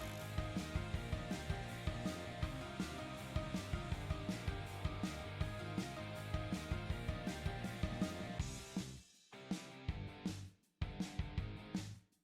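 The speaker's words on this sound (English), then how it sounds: "A 110-volt tile remover is used to break the bond between the thin set and the tile." A 110-volt electric tile remover chisels up floor tile with a rapid, steady mechanical hammering that chatters continuously for several seconds, loud and close, then stops and restarts in short bursts near the end.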